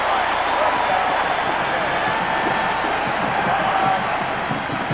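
A stadium crowd at a 1985 Nebraska college football game against Florida State roars steadily, and a commentator's voice sounds faintly under the cheering.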